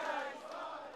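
Football supporters massed together in a crowd, a steady dense roar of many voices filling the whole second without a break.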